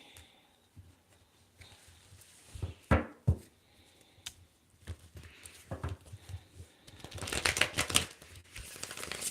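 A deck of tarot cards is handled, shuffled and split, giving soft taps, crinkly rustles and a dense riffling burst toward the end, quiet and close with no speech.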